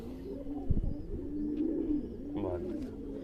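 Racing pigeons kept as flying birds give soft, low cooing calls that roll on continuously at close range, with a faint bird chirp and some background rustle.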